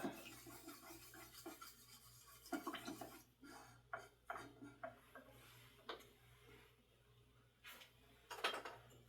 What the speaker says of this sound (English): So I have my Minwax stain. Just lightly stir that.